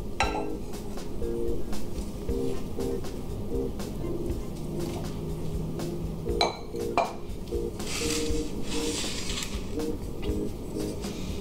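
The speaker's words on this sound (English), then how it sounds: "I'm gonna go ahead and put this into the pan." Yogurt cake batter being scraped and poured into a baking pan, with light clinks and scrapes of a utensil against the pan and bowl, steady and close, over faint background noise.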